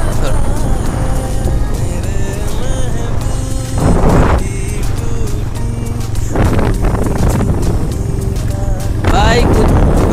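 Loud, steady engine and wind rumble come from a TVS Raider motorcycle being ridden on a highway near Nandigram, with a few louder gusts or passing bursts and talk over the top.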